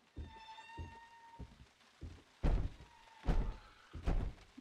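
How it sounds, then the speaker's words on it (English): Heavy thuds pound on a door in the horror game P.T., a steady series of dull knocks that grows louder and more forceful toward the end, set over a thin, eerie ambient tone. "Banging on the door."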